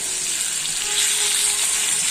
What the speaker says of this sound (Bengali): শোল মাছটা ভাজার জন্য দিয়ে দিয়েছি।